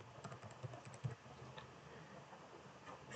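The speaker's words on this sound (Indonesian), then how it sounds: "Kemudian kita ketikkan perintah PHP Artisan spasi make" Fingers type a command on a computer keyboard, a quick, irregular patter of light clicks with a couple of sharper key taps, close and quiet, with no voice over it.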